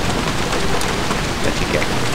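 Steady rain hisses in the video game Black Shades, a dense even wash of falling drops with no pauses, loud and close throughout.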